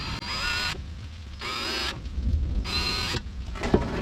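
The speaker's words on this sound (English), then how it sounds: "I am going to just take and drill those holes out with a 7/64 drill bit." A power drill with a 7/64-inch bit whines in three short bursts while drilling holes, starting and stopping at a steady pace with brief pauses in between, up close.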